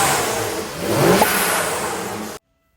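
A modified BMW 335i with N54 engine revving hard, a loud close rising engine note that swells midway and holds before cutting off abruptly into silence.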